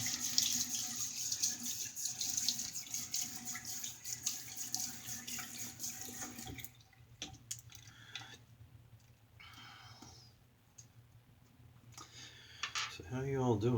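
Water runs steadily from a bathroom tap into a sink while a man wets his face before shaving, with splashing and trickling that thins and stops partway, then resumes near the end.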